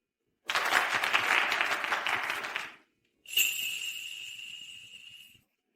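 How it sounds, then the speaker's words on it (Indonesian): Applause for the bride as she is welcomed to the stage at a wedding: two bursts of clapping, the first about two seconds long, then a short pause and a second burst that carries a bright sustained ringing tone. "mari kita berikan tepuk tangan meriah sekali lagi untuk menyambut mempelai wanita"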